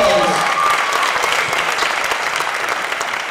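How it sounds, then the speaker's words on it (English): A film audience gives the filmmakers a loud, dense round of applause, a steady wash of many hands clapping at once, with faint voices underneath, fading slightly near the end. "Give these guys one last sort of final bow, round of applause."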